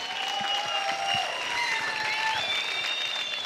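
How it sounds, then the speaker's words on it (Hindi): Steady, loud audience applause fills the studio of a TV dance show, a dense wash of clapping and crowd noise from start to finish with no break. "जोरदार तालियां हो जाए बिनी शर्मा के लिए।"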